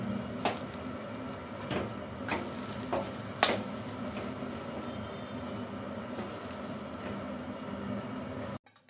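Semolina upma being stirred in a pan after ghee goes in, a soft continuous sizzle with a few distinct scrapes and taps of the spoon near the start, quiet and close with no talk, ending abruptly.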